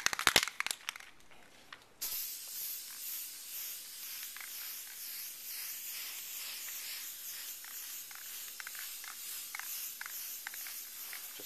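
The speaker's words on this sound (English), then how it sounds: "So I'm gonna go to spraying right now" After a few light clicks and rustles, an aerosol can sprays a coating onto playing cards in a long, continuous hiss, with brief pauses and bursts, close by.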